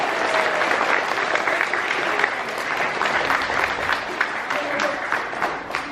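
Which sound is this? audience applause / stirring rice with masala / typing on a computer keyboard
audience applause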